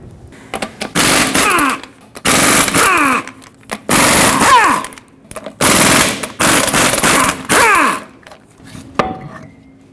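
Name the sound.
socket wrench removing lug nuts from Ford F-350 wheel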